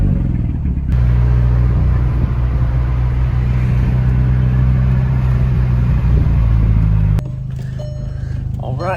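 A Volkswagen Golf R pulls away with its windows and sunroof open, giving a loud, close engine rumble and wind-buffeted road noise that holds steady for several seconds and then drops suddenly to a lower level.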